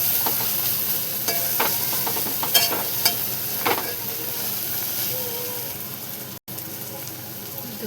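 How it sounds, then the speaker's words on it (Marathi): Prawn biryani masala with turmeric is stirred in a pot, the spatula scraping through a continuous sizzle in short strokes, close and fairly loud. "हळद टाकल्याच्या नंतर पुन्हा आपण एकदा सगळं मिक्स करून घेऊया."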